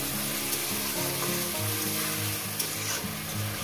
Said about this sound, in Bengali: এবারে সুন্দর করে কষিয়ে দিই।